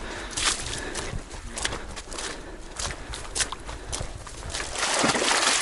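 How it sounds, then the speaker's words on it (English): Footsteps slosh and splash through shallow water in a Big Cypress swamp on the Florida Trail, a steady series of wet steps close by amid quiet outdoor ambience. "The sounds of the swamp."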